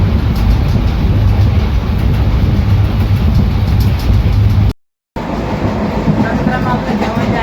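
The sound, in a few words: overnight sleeper train passing Barshi Takli station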